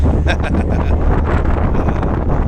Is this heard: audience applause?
no